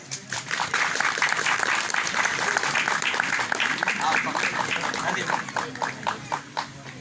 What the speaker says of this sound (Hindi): आइए हम ताली बजाएंगे।